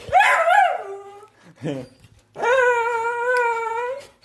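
A young dog gives a sharp bark, then a short yelp, then a long, high whimper, all loud and close.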